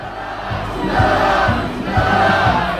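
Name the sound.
protest crowd chanting a slogan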